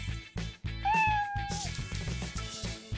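A cat gives one long, clear meow near the middle, set against steady background music with rhythmic beats throughout.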